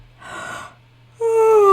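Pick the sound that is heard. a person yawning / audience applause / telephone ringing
a person yawning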